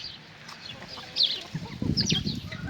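Marcus Lahm Lutkemier cross Australorp pullets cluck in a garden, soft scattered calls that grow busier and closer toward the end.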